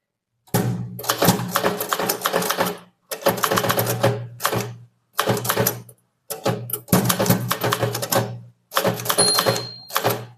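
Typewriter keys strike in rapid bursts with short pauses between, close and loud, as a formal English letter is typed on a manual typewriter.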